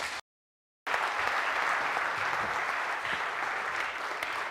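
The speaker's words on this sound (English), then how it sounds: "please give our panelists a round of applause" Steady audience applause for the panelists at a London net-zero strategy conference session, starting after a brief gap and continuing evenly and fairly loud to the end without voices.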